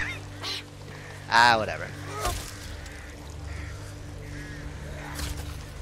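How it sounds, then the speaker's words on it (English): Birds squawking in the video game Back 4 Blood, a loud honking burst early on followed by fainter calls, mixed with game ambience and brief talk. "There are birds on both sides."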